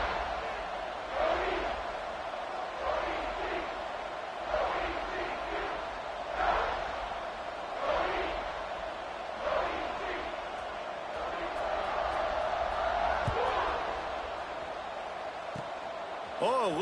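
A college football stadium crowd roars in broad rolling swells before kickoff, with cheers rising and falling steadily and a commentator speaking over it.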